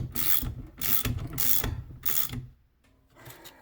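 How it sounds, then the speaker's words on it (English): A hand ratchet with a 17 mm socket tightening axle bearing caps on a Suzuki Samurai build, four quick close clicking bursts in a steady rhythm, then a pause and a softer final burst. "These can be tightened down with a 17 millimeter."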